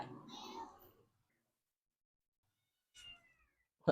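A cat meows in two short calls spaced apart after a brief burst of talk, the calls close and moderately loud against an otherwise quiet room.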